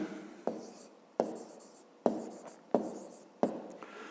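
Pen writing by hand on paper during a fifth-grade geometry exercise, heard as five short scratchy strokes in an even rhythm, close and quiet, each stroke starting sharply and trailing off.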